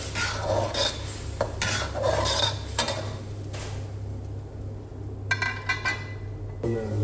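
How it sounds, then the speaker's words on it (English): A utensil scrapes and clinks against a pot of Thai basil chicken with bamboo shoot as it cooks, in irregular strokes over a low steady background, with no talking. "Stir well and let it boil for a few minutes."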